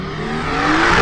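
A BMW 340 and an Audi SQ5 launch off the line in a quarter-mile drag race, engines revving up sharply into a rising, loud roar over a short burst.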